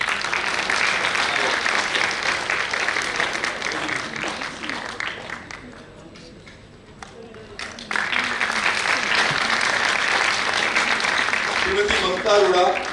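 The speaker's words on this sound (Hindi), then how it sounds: "एक बार जोरदार तालियां" Audience applause at a Hindi stage show, dense clapping with speech-like voices mixed in, dipping to a quieter lull midway before swelling again at full strength.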